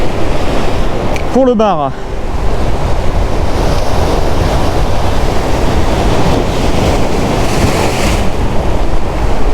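Rough sea churns with foam against a rocky fishing spot, loud continuous surf and wind noise buffeting the microphone, with a brief spoken phrase and a sharp scraping sweep near the start.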